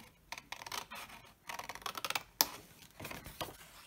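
Scissors snip through paper while cutting out a shape for a craft, in a series of short, crisp, close cuts coming in bursts with brief pauses between them.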